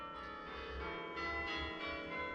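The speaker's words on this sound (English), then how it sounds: "on cue the church bells start" Church bells ring continuously in a dense, sustained peal, with overlapping tones layered over a steady low background, moderately distant and fairly quiet.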